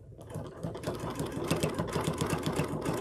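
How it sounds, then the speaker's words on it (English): A sewing machine stitching through a quilt made from a charm pack, a close, loud, fast steady mechanical chatter running continuously without talk. "And then I'm going to sew back over."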